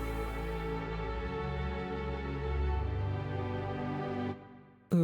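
Strings play a sustained chord progression of rich, harmonically layered notes, shifting chords partway through, then fading out before a brief abrupt sound at the very end.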